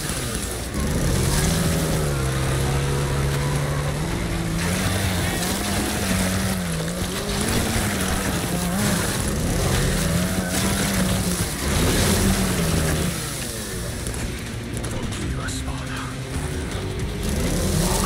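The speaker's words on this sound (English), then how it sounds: "there's a helicopter" Helicopter in the zombie shooter World War Z, a continuous droning engine hum with wavering pitch under dense, loud game noise, lasting throughout with no break.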